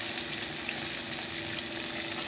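Pieces of fish fry in hot oil in a pan with a continuous, close sizzling crackle that stays steady throughout, with no talking.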